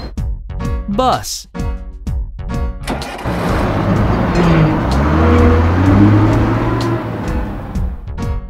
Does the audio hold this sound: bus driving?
yes